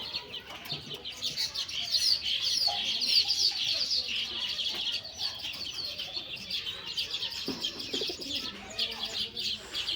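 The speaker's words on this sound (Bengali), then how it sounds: "এই তো কত সুন্দর করে কবুতরগুলো খাবার খাচ্ছে।" Pigeons feeding on a house roof coo and murmur steadily at close range, with soft chirps and brief clucking sounds mixed in and faint background noise.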